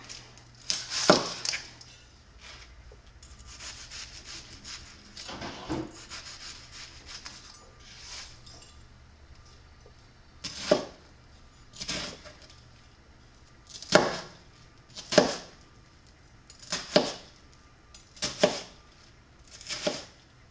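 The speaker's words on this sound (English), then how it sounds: "it's not just chopping vegetables to make this salsa" Knife chopping onion and other vegetables on a cutting board for fresh garden salsa: a run of sharp, close chops that come in bursts, then spaced single strokes near the end, with no talk.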